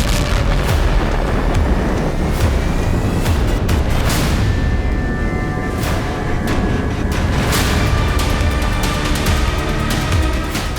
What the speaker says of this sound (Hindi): ड्रोन कैमरे में कैप्चर होने के चंद मिनटों बाद यहां जोरदार धमाका हुआ।